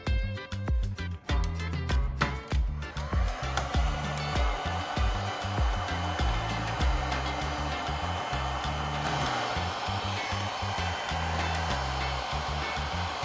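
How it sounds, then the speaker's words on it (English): A heat gun blows a steady, loud stream of hot air onto plastic pipe, with a constant whooshing hum throughout. Some clicks and knocks come at the start, and there is no talk. "I'm going to use a heat gun to soften the long section of the pipe so we can flatten it out."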